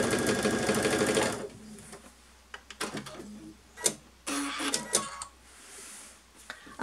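A sewing machine stitches through stabiliser fabric in a fast, close, rhythmic whirring burst, then goes on in shorter, intermittent clicks and runs with quiet gaps between them.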